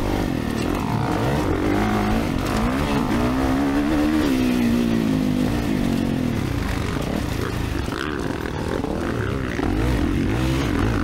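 A motocross dirt bike rides at Albany MX, its engine loud and close throughout, rising and falling in pitch as the rider works the throttle, with wind buffeting over it.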